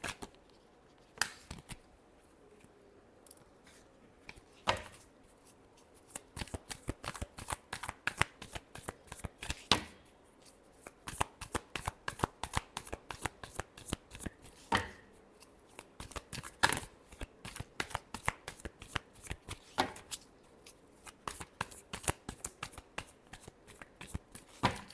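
Tarot cards are shuffled by hand in repeated riffling bursts, crisp close flutters and snaps coming in quick clusters with brief pauses between, with almost no talk.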